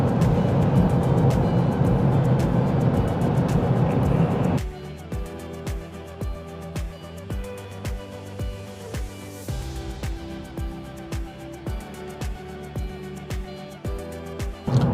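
Car driving along a road, with steady road and engine noise at first, then a quieter cabin with rhythmic thumps over the surface; no talk.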